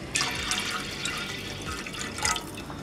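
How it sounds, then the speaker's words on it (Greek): Water poured into a cooking pot while a child's meal is prepared at home, a steady trickling and splashing stream close by that swells briefly near the end. "Λίγο ακόμα νερό."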